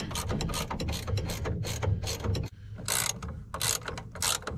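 A hand ratchet clicks rapidly and loudly, very close, while loosening a variable speed sheave on a John Deere 4400 combine, in fast repeated strokes that pause briefly midway before resuming.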